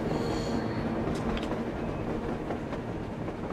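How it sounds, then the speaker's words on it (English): A train rolling along an above-ground track in the post-apocalyptic Metro Exodus game, heard as a steady, dense rumble with faint rail clatter, moderately close and continuous with no talk over it. "A train! A damn train on the surface!"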